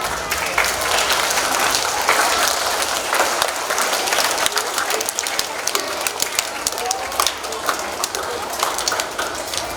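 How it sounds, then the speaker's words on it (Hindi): A school audience at a Hindi Diwas event claps steadily throughout, with dense, continuous applause and some voices and bird cooing underneath. "तालियां बजाना है"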